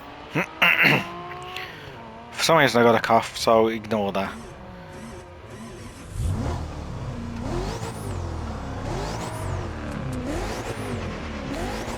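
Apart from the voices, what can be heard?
sports car engine starting and revving, video game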